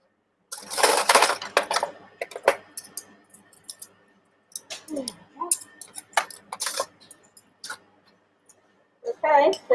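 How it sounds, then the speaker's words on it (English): Metal teaspoons clinking and clattering as they are picked up and set down on a table, a few bright scattered clicks between stretches of conversation. "Here we go for the teaspoons"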